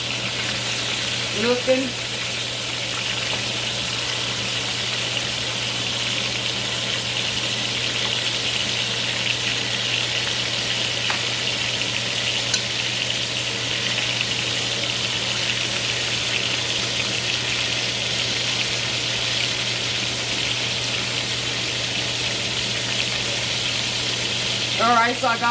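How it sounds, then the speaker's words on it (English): Chicken pieces fry in oil in a pan while being cooked Cajun style, giving a constant loud sizzle with a low steady hum beneath, occasional stirring clatter, and a person talking briefly. "Now I'm going to let it fry on the other side."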